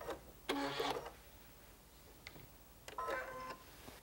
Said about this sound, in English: Then I will touch the reverse button so I fix that stitch.